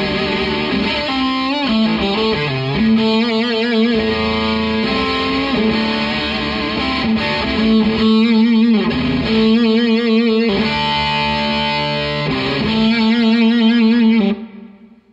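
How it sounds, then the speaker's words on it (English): An electric guitar with humbucker pickups played through a Providence Flame Drive overdrive pedal gives a saturated, sustained overdriven tone over about fifteen seconds of riffs and held notes. It ends with a decaying final chord and no talking. "We're back with a humbucker guitar with the flame drive from Providence."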